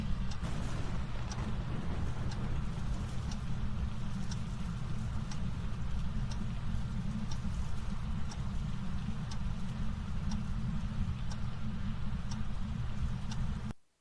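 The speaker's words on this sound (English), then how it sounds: "what was going on there is just like a lot of white noise, and then you can hear the clock ticking in the background" Phasmophobia haunted-house ambience from a video game: a constant, loud wash of low rumbling white noise fills the space while a faint clock ticks steadily in the background, about once per second.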